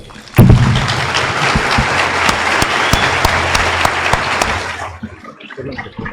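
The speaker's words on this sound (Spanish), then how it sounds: "Lo recibimos con un fuerte aplauso." An audience at a science lecture on quarks breaks into applause, a sudden thump and then a full even round of clapping that fades out near the end.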